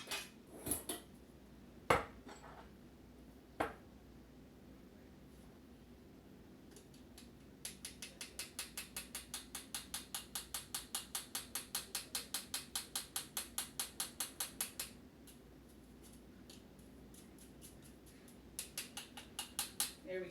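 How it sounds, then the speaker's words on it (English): A strainer is tapped and shaken to sift cocoa powder, giving a fast, even run of light metallic rattling ticks for several seconds, then a shorter burst later, preceded by a few scattered clinks. "I'm going to sift in a tablespoon of cocoa powder"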